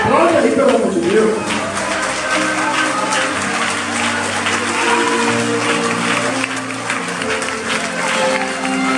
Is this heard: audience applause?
yes